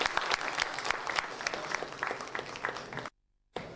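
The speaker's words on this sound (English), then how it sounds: "can we have a huge round of applause, please?" Audience applause at a clean energy and environment panel discussion during a summit, a dense sustained clapping from a crowd that cuts off abruptly near the end.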